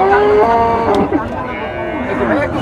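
A dairy cow with six teeth, standing with her bull calf at the Aronkola cattle market in Pabna, gives a loud, drawn-out moo close by while people talk over the market bustle.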